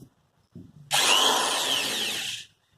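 An electric drill with no bit fitted, switched on once with no speed control. After a couple of faint clicks, its high whirring motor starts abruptly and runs steadily for about a second and a half, then cuts out. The drill is close and loud.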